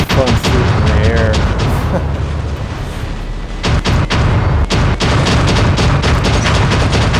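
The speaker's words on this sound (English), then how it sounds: "you see a Fury with three Tempests having fun shooting in the air" A Fury robot firing three Tempest weapons into the air in War Robots on the Yamantau map, a dense, loud stream of heavy booming shots and blasts with rumbling low end, a short lull, then renewed rapid firing.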